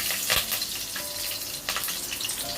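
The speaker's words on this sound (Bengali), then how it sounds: "তেলের মধ্যে আমি হাফ চামচ কালো জিরে দিয়ে দিলাম তেলের মধ্যে দুটো কাঁচা লঙ্কা দিয়ে দিলাম" Green chillies and black cumin seeds frying in hot mustard oil, a steady close crackling sizzle with a brief sharper spatter burst near the start and a second swell partway through.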